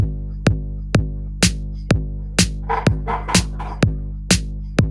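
Steady four-to-the-floor electronic kick drum with a snare now layered on alternate beats, the kicks booming and evenly spaced while crisp snare hits crack between them, loud with nothing else playing.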